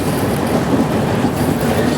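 The Rajya Rani Express 17611 rumbles loudly at speed while braking, a dense, continuous roar of wheels on rail heard from inside the train, with no speech.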